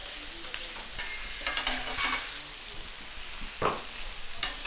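Smashed burger patties of 80-20 ground beef frying on a hot surface, a steady close sizzle punctuated by sharp scraping stir and spatula hits, moderately loud with no talk.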